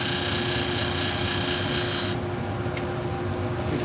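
Salon shears being sharpened to a convex edge on a machine, a continuous close grinding rasp over a steady hum, the harsh rasping dropping away partway while the hum carries on.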